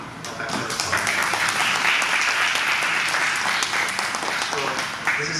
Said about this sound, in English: we should have a round of applause for it